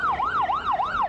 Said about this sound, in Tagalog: wala na halos tigil ang pag-alingaw-ngaw ng mga ambulansya na papasok sa magkalapit na Pisanan National High School at Pisanan Central School.